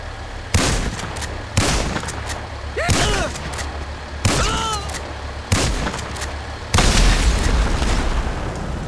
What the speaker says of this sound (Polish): mamy też ulepszone wybuchy, eksplozje i dym z samochodów.